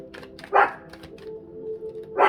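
A pet watchdog gives two short, sharp barks from a short distance, spaced a couple of seconds apart, in an otherwise quiet room.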